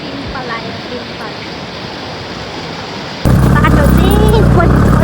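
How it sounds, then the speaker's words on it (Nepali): River water fed from Gosaikunda lake rushes in a steady broadband roar near a trail in Nuwakot, growing suddenly louder and closer partway through, with a voice speaking over it. "यो खोलाको पानी चाहिँ गोसाइकुण्डको पानी बग्दै आएको"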